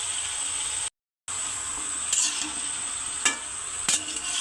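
Curry with dried shrimp sizzles in a pan, a bright steady hiss broken by a short dropout, with a few clinking stirs of a utensil against the pan.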